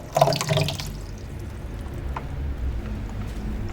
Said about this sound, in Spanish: Podemos ver que continúa echando por el desagüe